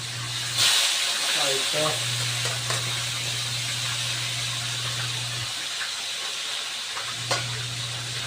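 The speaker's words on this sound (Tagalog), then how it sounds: "habang nagpiprito po tayo ng talapia" Tilapia frying in a pan hisses with a steady, close sizzle, a low hum running underneath, while a voice speaks briefly.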